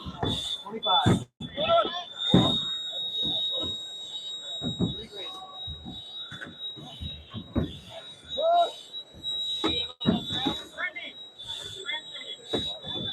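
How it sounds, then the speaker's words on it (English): A steady high-pitched electronic alarm tone sounds continuously through a Polk County emergency training scenario, with scattered beeps and clatter, all heard beneath frequent loud talking. "Whistles are whistling, bells are belling, and alarms are alarming."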